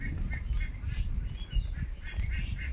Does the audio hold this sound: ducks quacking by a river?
yes